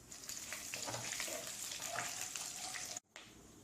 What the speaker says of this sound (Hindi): तेल गरम हो चुका है, इसमें स्पाइसेस डाल के हल्का सा सौटे कर लें।